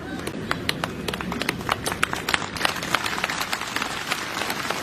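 Audience applause at a political rally speech in Nagrota, Himachal Pradesh, with dense, steady clapping from a sizeable crowd across the whole stretch and no talk over it.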